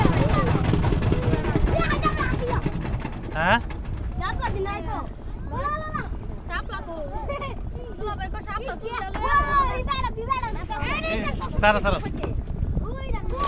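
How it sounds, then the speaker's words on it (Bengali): A boat travels on a river with a low rumble of motion and wind noise running steadily beneath people talking and calling out throughout. "নদীতে একটু নৌকা ভ্রমণ"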